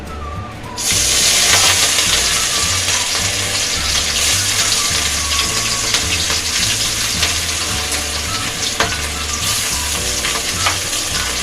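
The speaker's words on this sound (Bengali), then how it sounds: "এবার আমি তেলের মধ্যে মাছগুলো অল্প অল্প করে ভেজে নেব" Fish pieces fry in smoking-hot oil in an aluminium wok, with a sudden burst of loud sizzling and crackle that then holds steady and close throughout.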